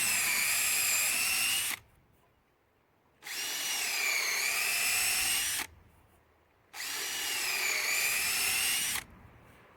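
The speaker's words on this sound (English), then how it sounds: "we're just going to drill a series of holes into the log" A power drill whines loudly in three long bursts of about two seconds each, drilling holes into a log, separated by short quiet pauses, with close, steady high-pitched grinding.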